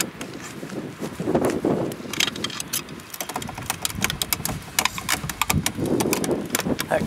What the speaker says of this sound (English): That crunching noise you just heard are the louvers, the active louvers.